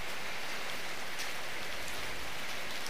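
Rain falling steadily during an outdoor hunting outing, a dense, even hiss of drops spattering on surfaces nearby, uninterrupted and without voices.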